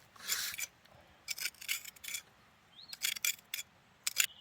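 A tool scrapes bedrock during gold prospecting in short, dry raspy strokes, about seven quiet bursts separated by pauses, close by with no talking.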